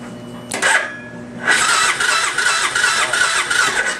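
A Suzuki Boulevard motorcycle with a disconnected crank position sensor cranks twice from close by, a brief starter whir, then a longer sustained cranking burst with a raspy mechanical churn that never settles into a clean idle.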